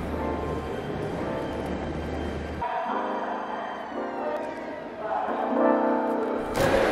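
Train at a railway station: a steady low engine rumble gives way to sustained mechanical hum and whine tones as it moves, with general platform noise and a louder burst near the end.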